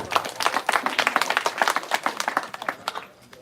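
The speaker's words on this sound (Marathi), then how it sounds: "माझा आवडता प्रश्न विचारल्याबद्दल टाळ्या वाजव" An audience at a Mahanubhav Navratri religious sermon bursts into brisk, scattered clapping that holds for about three seconds before thinning out and fading.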